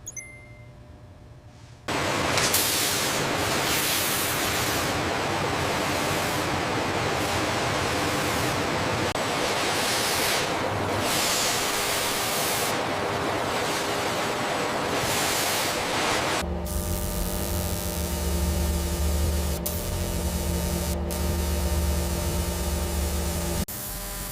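Vacuum table in a snake leather factory: after a short quiet start, a loud steady broadband hiss of rushing air, then a sudden change to a lower mechanical hum with tonal whine, continuous, no talking.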